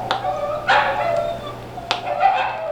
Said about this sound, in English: No, it'll start with dogs barking.